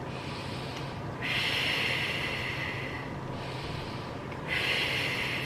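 Slow, controlled breaths come through close and airy during a back pain exercise, with two long hissing inhales or exhales of a few seconds each.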